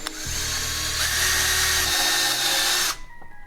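A power drill bores through plastic on a splitter, a close whining motor with a grinding pitch that shifts as the bit bites, stopping abruptly near the end.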